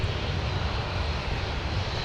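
Steady broadband roar of a United Boeing 787 Dreamliner from Frankfurt at a busy airport, a constant loud rumbling engine wash with no break across the short stretch.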